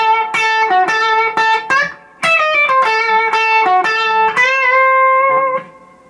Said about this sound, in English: Okay, so it's a very common sounding blues lick,